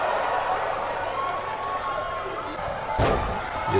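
A wrestler kicks his opponent in the face at a BCW match, landing as a single loud slam near the end over a continuous backdrop of crowd noise and commentary.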